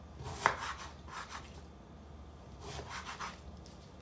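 Knife slicing raw chicken breast on a cutting board, a sharp tap followed by a few soft rubbing cuts, then a pause and another short run of quiet strokes, close and alone.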